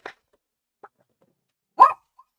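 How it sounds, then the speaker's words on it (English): A dog barks at someone outside, giving a few short sharp yips and one louder bark with quiet gaps between them, close by in an otherwise silent room. "The dog just heard somebody outside."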